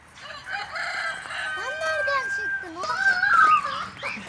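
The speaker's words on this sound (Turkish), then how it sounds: "tavuk geldi tavuk" A rooster crows loudly up close, a rising, drawn-out call, with children's voices and chatter mixed in around it.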